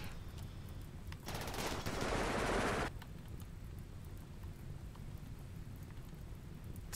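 Burst of rapid automatic gunfire from a squad focusing fire in the video game Rimworld, a dense loud rattle lasting under two seconds amid steady background noise.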